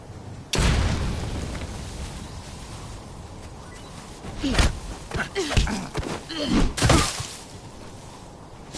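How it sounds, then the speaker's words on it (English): A grenade detonates in the Metal Gear Solid Delta: Snake Eater boss fight, a sudden loud boom followed by further bursts and blasts in the middle of the clip, with faint voices in between. "Grenade!"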